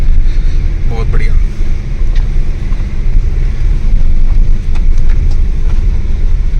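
A car engine revs under steady throttle while crawling over a rough, potholed road in a Himachal village, a loud continuous low rumble buffeted by wind noise, with someone talking over it.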